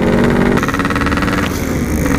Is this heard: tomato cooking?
no